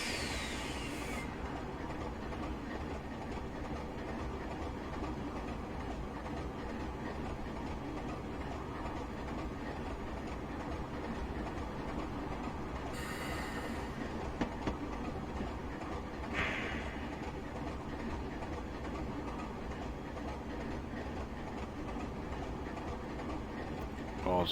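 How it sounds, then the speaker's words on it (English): A Class 25 diesel locomotive picks up speed between Edinburgh Waverley and Glasgow in Train Simulator Classic, giving a steady engine drone and rail rumble throughout, with brief hissing bursts partway through. "This is the fastest acceleration this train has done on the entire"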